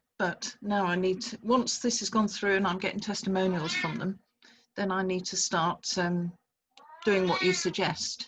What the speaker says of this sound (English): That's the cat, excuse her.